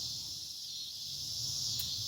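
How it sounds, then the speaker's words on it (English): Cicadas drone outdoors in a constant high-pitched shrill buzz, steady and moderately loud throughout, with no speech. "Sorry, the cicadas are out."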